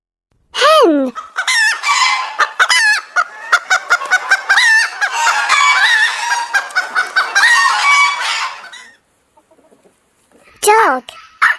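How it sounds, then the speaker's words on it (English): A farm hen clucks and squawks loudly and continuously, busy overlapping calls close by, then a pause and a final short burst. "Hen."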